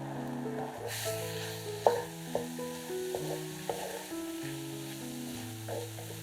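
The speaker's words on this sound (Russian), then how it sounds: "На горячую сухую сковороду кладем подготовленные грибы" Prepared mushrooms frying on high heat in a hot dry pan, a continuous soft sizzle with occasional sharp knocks of stirring against the pan, heard close under a layer of steady background music.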